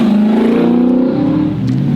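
Car engine accelerating up close, a loud steady drone rising in pitch, then briefly dipping as it shifts and pulls again, with no talking over it.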